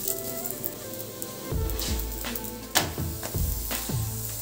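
Rumali roti roasting on a hot pan with oil gives a soft, continuous sizzle with small crackles and pops, quiet and close, with a few light scraping touches as it cooks.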